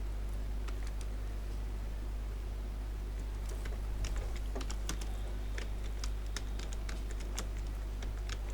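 Fingers type a simple PHP program on a computer keyboard, with quick irregular key clicks in bursts over a steady low electrical hum, close and fairly quiet, no talking.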